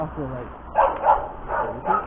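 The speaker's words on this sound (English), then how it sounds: "That dog always barking?" Dog barking from inside a cage, a few short barks and yips spaced over two seconds beneath ongoing conversation.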